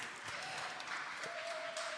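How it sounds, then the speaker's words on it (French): Applause from an audience in a hall after a film screening, a steady dense wash of clapping throughout, with a faint tonal whistle or feedback line running underneath. "Et vous pouvez applaudir."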